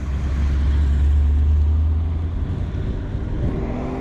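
A Porsche leaves a car show in South Portland, Maine, its engine a loud, close low drone that fades and shifts in pitch as the car pulls away.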